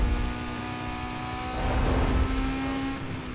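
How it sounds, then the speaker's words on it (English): A car engine's steady exhaust drone in Need for Speed: Most Wanted, with a low, rough rumble that swells slightly midway, loud and continuous throughout. "Exhaust note isn't too bad either."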